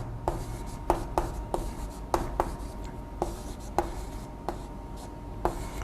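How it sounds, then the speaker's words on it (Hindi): Hand strokes writing out a 3×3 square matrix on a board for a maths lesson: a string of sharp taps and short scratches at an uneven pace, close and moderately loud, with no voice. "स्क्वायर मैट्रिक्स 3×3 की लिख देता हूँ"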